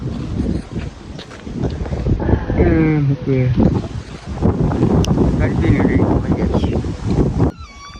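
Wind blows steadily across a microphone outdoors in a Gujarati village, a loud continuous rumbling buffet, with people talking throughout.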